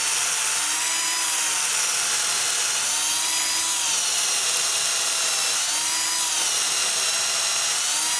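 A continuous high-pitched drill whine with slightly wavering pitch, close and loud, as a bit bores steadily into wood through a drilling guide without pause.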